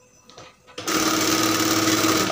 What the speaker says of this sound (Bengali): আমি এভাবে বসিয়ে সেলাই করব